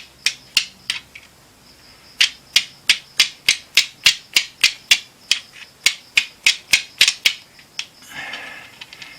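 Stone strikes stone in sharp, clicky taps to spall off sharp shards, about two dozen hits in a fairly even rhythm, each one close and crisp, ending in a brief rough scraping rub.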